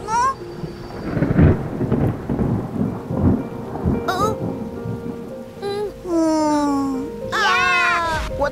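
A cartoon thunderstorm effect: loud rumbling thunder cracks over steady falling rain, with high, squeaky cartoon-style vocal tones rising near the end.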